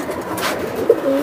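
Pigeons coo faintly from the background, with a short soft call standing out amid steady ambient noise, among racing Giribaz and old-line Bagha male pigeons at a sale.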